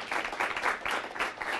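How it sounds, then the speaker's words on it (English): Audience applause at a talk on suicide, a dense wash of many hands clapping in steady surging waves, fairly faint and with no voices over it. "How about one more round of applause and thank you to Dr."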